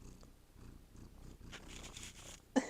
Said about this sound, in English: Cat ASMR.